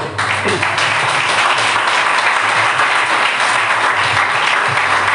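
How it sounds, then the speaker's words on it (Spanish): Loud, continuous applause fills a church as the congregation claps for the Lord, a thick, unbroken wash of many hands lasting about five seconds without speech. "Denle un aplauso al Señor."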